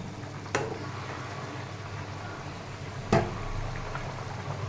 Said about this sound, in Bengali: এই ঝোলটা ফুটে গেছে।